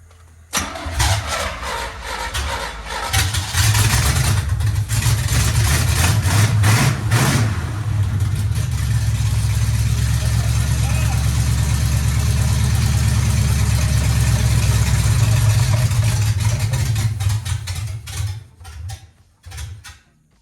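A car engine fitted with DIY fenderwell headers runs loud and raspy, catching and holding a rough idle with repeated throttle blips and revs for most of the stretch before cutting off near the end.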